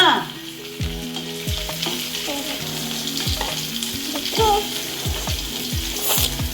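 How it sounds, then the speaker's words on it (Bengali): A grandmother fries karkol (teasel gourd) filling in a pan. A steady sizzle runs under repeated scraping and clattering of a spatula against the metal, close and fairly loud, with some tonal background noise and no clear talk. "এই দেখো ঠাম্মি ভাজি করছে।"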